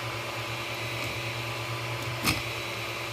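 A 3D printer runs a small-model speed test at 3750 mm/s accelerations, giving a quiet, steady mechanical hum and whir with one brief louder click partway through.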